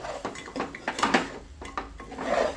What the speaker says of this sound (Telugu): ఇలా కలుపుతూనే ఉండాలండి